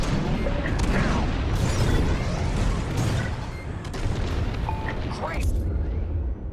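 Bombs explode in a Star Wars Squadrons space battle, with loud rumbling blasts and booms rolling over a dense, continuous din of combat noise.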